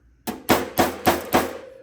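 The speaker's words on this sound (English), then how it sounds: "My hand is also all the way down at the bottom of the hammer. I'm just lightly tapping it." A hammer lightly tapping a dent out of sheet metal, backed by a spoon tool during metal bumping: five evenly spaced, ringing metallic taps, close and clear with nothing else over them.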